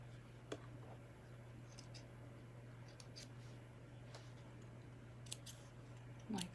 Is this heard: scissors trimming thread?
yes